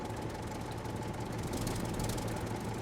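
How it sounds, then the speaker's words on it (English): A loud tractor engine in the survival game SCUM runs steadily, a dense rumbling drone with a knocking texture that holds constant throughout, close and filling the whole clip. "I forgot just how loud the tractor is."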